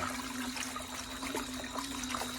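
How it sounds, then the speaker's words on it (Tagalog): Water runs and splashes steadily as meat is rinsed at a lechon roasting place to clear its smell, a close continuous gush with a constant low hum beneath and no speech. "Mga banlawan pa."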